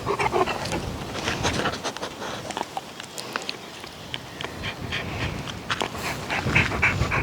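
A dog pants and sniffs close by outdoors in a garden, with quick irregular breathy bursts and small scuffling sounds, no talk.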